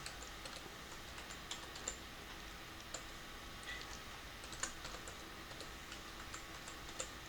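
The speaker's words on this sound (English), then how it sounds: "be very careful when you're typing in these passwords" A setup password is typed on a computer keyboard at a BIOS screen: steady, close, light key clicks in an irregular rhythm, a few sharper taps, with no talking.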